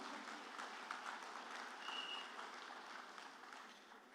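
An audience claps in a steady wash of applause, fairly faint and distant, and the sound tapers off slightly toward the end.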